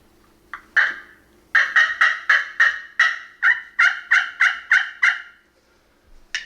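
A turkey call worked with a Purple Heart striker yelps in a quick series of about a dozen sharp, evenly spaced notes, close and clear with no talking.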